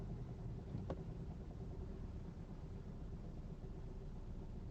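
An ordinary car coasting on a side street at about ten miles an hour, foot off the accelerator with light braking, its engine noise a steady low rumble with road hiss, faint and continuous throughout.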